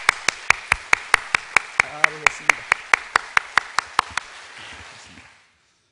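A congregation claps in tight unison to welcome newcomers, with about twenty crisp, evenly spaced claps in a quick steady beat. Someone speaks briefly partway through, and the claps stop and give way to a fading room echo.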